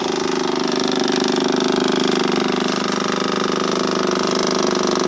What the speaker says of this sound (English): You hear that? That's the fuel pump.